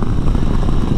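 A Honda 500X motorcycle engine runs while riding, a steady close low drone mixed with wind noise, with no talking.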